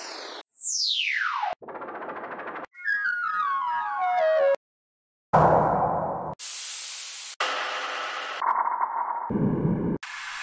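Falling sweep effects from a techno sample pack play in quick succession, including a bright pitch dive, descending warbling tones and several abrupt synthetic noise bursts, each cut sharply with brief gaps between them.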